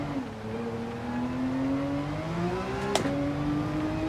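Race car engine in Gran Turismo 7 droning steadily after a downshift, rising pitch harmonics climbing slowly with a brief sharp blip near the end, loud and continuous with no talk.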